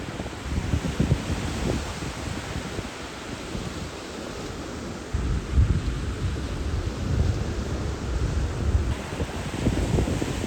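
Sea waves wash against an island shore in Primorye on a May morning, a rolling rumble of surf mixed with gusts of wind buffeting the microphone, steady and fairly loud with no voices.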